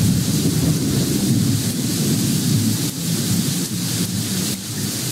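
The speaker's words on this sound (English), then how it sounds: "That's heavy rain." Heavy rain pours steadily in the Roblox game Twister County, a dense, constant hiss with low rumbling thunder rolling underneath, loud and unbroken throughout with no voices.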